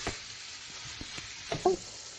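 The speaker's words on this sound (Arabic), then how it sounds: "بنقلي اللحمة بدون ما نحط لها ملح ولا نحط لها أي شي، بنقليها نص قلية" Unsalted ground meat fries in a pan, a soft steady sizzle broken by a few light knocks and stirring scrapes, ending with a short louder clatter.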